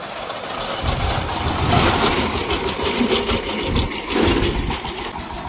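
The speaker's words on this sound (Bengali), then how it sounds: "ভটভটি গাড়িতে ধানের বস্তা ভরে নিয়ে যাচ্ছে।" A small motorized cart engine, carrying sacks of paddy, runs steadily and loudly with a rough, chugging drone under a cloudy evening sky, no voices present.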